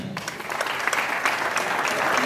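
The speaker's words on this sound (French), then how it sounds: "Applaudissons très fort" Steady applause from a crowd, a dense wash of clapping that holds at an even level throughout.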